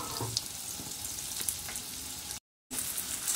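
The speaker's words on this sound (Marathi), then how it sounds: "त्यात फ्राय करते।" Coriander fritters (kothimbir vadi) shallow-frying in about two spoons of oil in a pan give a steady, close sizzle and crackle throughout, broken by a brief gap of silence near the end.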